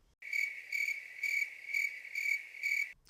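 Crickets chirp in a steady, loud rhythm of six evenly spaced pulsing trills, clear and close, with no voices.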